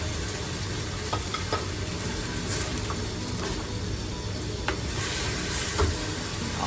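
Vegetables for a creamy cheesy chicken pasta sizzle steadily in a hot pan with an even frying hiss, broken by occasional soft scrapes and clicks of stirring, close and continuous with no talking.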